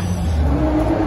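An Audi RS6 pulls away from a car show in pouring rain, its engine note a short, loud, close burst of acceleration with hissing wet road noise.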